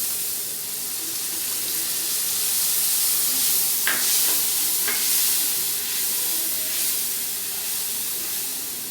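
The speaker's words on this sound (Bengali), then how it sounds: "আর পোস্ত বাটিটা চেঁচে একটু জল দিলাম।" Water scraped from a bowl of ground poppy seed paste is poured into a frying pan of potol posto, giving a steady hiss and sizzle with a few brief splashy pops partway through.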